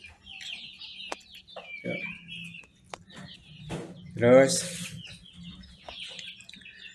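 Backyard free-range chickens in a home coop with perches, clucking in short bursts, one louder squawk midway, close by with someone talking over them.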